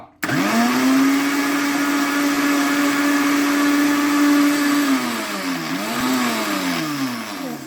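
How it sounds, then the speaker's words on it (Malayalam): Electric blender whirring steadily as it blends milk with Parle-G biscuits for kulfi, a loud continuous motor hum that holds constant for several seconds, then dips and wavers near the end as the load shifts, with no talking. "അങ്ങനെ പാലും പാർലേജി ബിസ്ക്കറ്റും കൂടെ നന്നായി ബ്ലെൻഡ് ചെയ്ത് എടുത്തിട്ടുണ്ട്"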